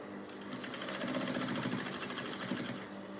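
A sewing machine stitches piping onto a crossing wrap blouse, its needle running in a fast, even mechanical chatter at close range, steady for the whole stretch with no talking.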